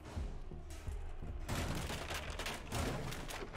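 Rapid shotgun blasts and gunfire from a Rainbow Six Siege match, loud and dense booming shots bursting in close succession and thickening into a heavy barrage halfway through.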